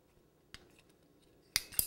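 A crank-adjusted cutting tool used in cake decorating gives a faint click, then two sharp close metallic snips in quick succession near the end.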